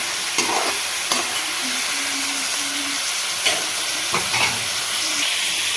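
Onion, garlic, carrot, cauliflower, peas and potato frying in a pan, a steady close sizzle with a few stirring scrapes and clinks, no talking.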